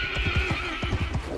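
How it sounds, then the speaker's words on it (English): A horse whinnies loudly and clearly in a medieval battle video game, with a series of rhythmic hoofbeat thuds running underneath the call. "this time I'm going to go ahead and call a horse again"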